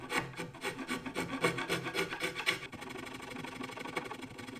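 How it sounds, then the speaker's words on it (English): A small Japanese rasp with blade-like teeth shaping wood, producing close, rhythmic rasping strokes that grow softer and faster in the second half. "I could crack out one of my favourite tools, which is this little adorable Japanese rasp."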